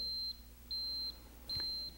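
A Precision Digital Watchdog PDS 178 temperature monitoring system sounding a bearing alarm: three evenly spaced, steady high electronic beeps, each lasting under half a second, faint over a quiet hum.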